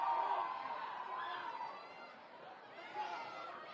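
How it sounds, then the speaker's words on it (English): Student section crowd at a Sheldon High School football game against Southridge, a steady roar of chatter and cheering that swells near the end, heard from a distance under ongoing commentary. "As the crowd gets into it again, the student section riled up here at Sheldon High School"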